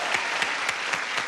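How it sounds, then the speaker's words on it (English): A game-show studio audience claps, a brief, dense burst of applause with no voices over it. "You deserve a round of applause."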